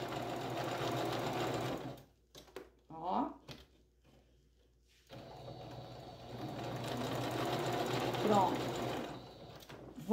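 A sewing machine stitches fabric pieces together for a placemat in bursts of rapid, close mechanical whirring, with pauses and soft handling noises between runs and someone speaking over parts.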